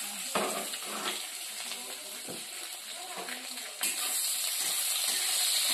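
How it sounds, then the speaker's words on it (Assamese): Potatoes frying in a pan, a steady sizzle running throughout, with scraping and stirring clatters along the way and the sizzle growing louder toward the end. "আলুখিনি অলপ ফ্ৰাই কৰি ল'বা"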